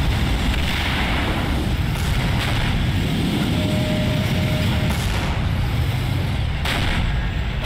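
Heavy artillery fire pounds a base in a real-time strategy game, a dense continuous rumble of blasts and gunfire at steady loudness, with no talk over it.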